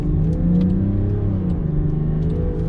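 A Land Rover Defender 130 with a turbo diesel engine pulls away on a street, a steady mid-pitched engine drone rising gently as it gains speed, heard from inside the cabin with faint high clicks and no voices.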